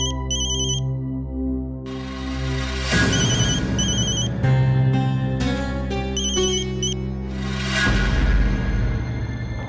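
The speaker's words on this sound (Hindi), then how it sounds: "फिर से सतीश का फोन" A mobile phone ringtone in a Hindi TV serial scene, an electronic melody repeating in loud bright phrases for nearly ten seconds with no talking.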